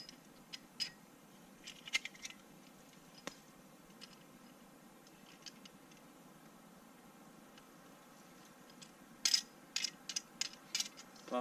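A small Sven 15-inch folding saw is fitted together and tightened outdoors, making sparse metallic clicks and ratcheting snaps over quiet background, with a denser cluster of clicks near the end.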